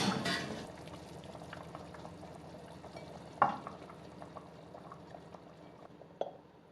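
Goulash with potatoes bubbles in a pot while being stirred, a soft continuous simmer broken by a couple of sharper scraping knocks from the spoon.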